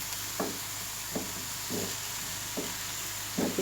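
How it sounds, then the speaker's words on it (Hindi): Onions fry in oil in a frying pan, giving a steady hiss broken by five evenly spaced soft scraping strokes of a utensil, close by and fairly quiet. "इसमें प्याज हमने ऑयल में डाल दी है।"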